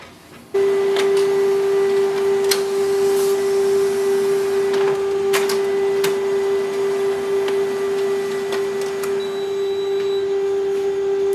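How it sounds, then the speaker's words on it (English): A Canon imageCLASS MF654Cdw color laser printer running a two-sided print job, with a loud steady motor hum and a constant whine, scattered clicks and ticks of paper handling on top, close up and uninterrupted. "Select two-sided long edge and click on the print."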